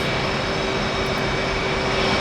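An F/A-18 Hornet jet engine in the DCS World flight simulator gives a loud, steady roar and whine with a fixed tone running the whole time; no winding down is evident.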